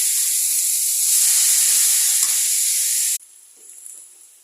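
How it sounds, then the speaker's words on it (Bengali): Loud, steady sizzling and hissing of potatoes frying in hot oil in a pan, close by, which cuts off abruptly to a quieter background. "আলু ভাজাটা হয়ে গেছে"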